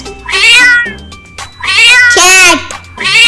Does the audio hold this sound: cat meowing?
yes